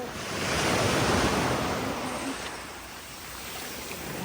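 Ocean surf roars steadily, a broad wash of waves rolling in and breaking with blustery wind noise over the microphone, no voices.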